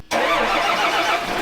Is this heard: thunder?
no